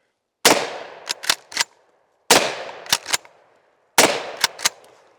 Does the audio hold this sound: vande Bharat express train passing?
no